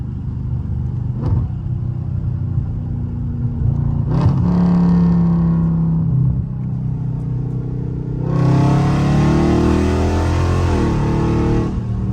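A very loud Dodge Charger Scat Pack rumbles steadily in traffic, with a brief rev surge partway through and a long, harsh, full-throttle roar building near the end, close and dominant.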